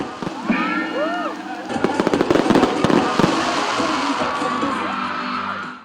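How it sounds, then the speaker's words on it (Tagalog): Festival fireworks at the Hamungaya Festival burst in rapid crackling pops and booms, with whistling rockets rising and a crowd cheering and whooping throughout. "Sinamahan din ito ng grand fireworks display."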